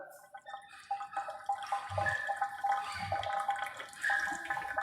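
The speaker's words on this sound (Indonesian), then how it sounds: "kayak semacam air keran ini nyala loh" A water tap runs in an upper floor of the Ivana hospital building, a steady, fairly faint watery hiss with splashing texture, heard alone with no talking.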